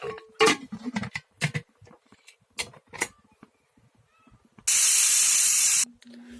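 A pressure cooker making pulao vents a steady, loud burst of steam hiss lasting about a second, after a stretch of clinks and knocks from lid handling.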